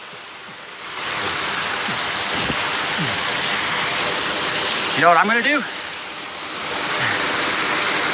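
A glacier-fed alpine waterfall gives a steady, broad rushing roar that stays constant throughout, with someone briefly speaking over it partway through.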